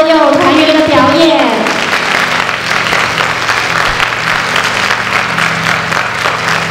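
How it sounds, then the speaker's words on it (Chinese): Warm audience applause at a middle school concert of Chinese traditional music, a dense sustained wave of clapping that follows a voice at the start and carries on steadily to the end. "我们再一次热烈的掌声来谢谢两位老师，谢谢合唱团所有团员的表演"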